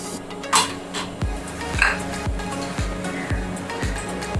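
Spices being stirred into a pan for coconut milk mutton gravy, with a spoon repeatedly scraping and clinking against the metal pan in a steady rhythm of about one stroke every half second over a low background hiss.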